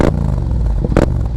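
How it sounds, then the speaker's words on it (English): Deep, throaty rumble of a Yamaha MT-07's CP2 engine, steady and loud with a low growl and two short sharper bursts, as if the throttle were blipped. "that deep throaty sound of the CP2 engine on this bike"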